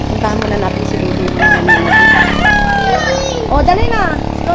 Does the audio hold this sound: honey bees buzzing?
no